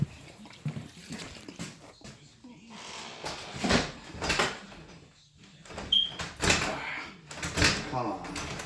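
A stuck door in a garage on a job site rattles and thumps as someone tugs at it, with scattered knocks and scrapes and a person muttering nearby.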